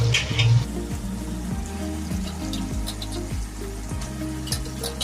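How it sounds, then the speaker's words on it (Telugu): One kilogram of chicken pieces frying in a pan: a steady, close sizzle runs throughout, with low tonal sounds underneath and a slightly louder burst at the start. "ఎప్పుడు చికెన్ ఫ్రై అవుతుందా అనుకుంటున్నా ఇప్పుడు చికెన్ ముక్కలు వేసుకున్నాం ఇవి వన్ కేజీ చికెన్ ముక్కలు"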